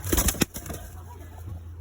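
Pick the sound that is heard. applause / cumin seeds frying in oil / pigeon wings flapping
pigeon wings flapping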